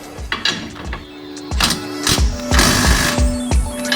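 Wrench work on 17 mm suspension bolts on a 2008–2014 Subaru WRX sedan during a coilover install at home: a run of sharp metallic clicks and knocks at close range, roughly one every half second, with ratcheting texture between them.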